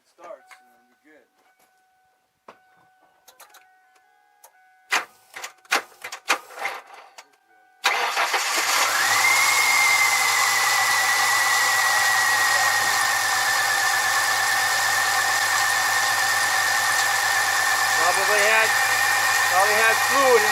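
A 1996 Ford Mustang with white smoke, treated with Bars Leak, clicks and briefly turns over on the starter. It then fires and settles into a loud, steady close idle with a whining tone. A person talks over the running engine.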